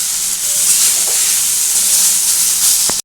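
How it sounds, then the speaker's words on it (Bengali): Loud, steady sizzling of food frying in hot oil for a ridge gourd chapor ghonto, a continuous bright hiss with a faint clink before it cuts off. "এটা কিন্তু ভালো করে ভেজে নিতে হবে"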